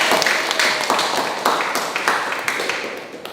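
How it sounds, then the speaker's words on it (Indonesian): A classroom of students applauds a classmate during an Indonesian poetry lesson, brisk uneven clapping in clustered bursts that gradually tapers off. "tepuk tangan untuk Fitra."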